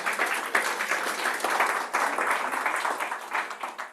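Audience applause fills the hall at an international education and health conference plenary session, a steady dense patter of clapping that holds for the whole stretch without fading.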